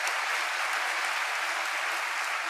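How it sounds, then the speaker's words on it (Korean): Steady applause fills a large hall as former Marines stand in the audience at a Christian military service members' revival gathering, dense clapping sustained throughout without talk. "박수 한번 쳐주세요"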